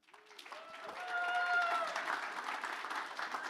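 An audience at a VR technology conference applauds a speaker being introduced, a spread of clapping building and holding steady, with a voice talking over it at the start.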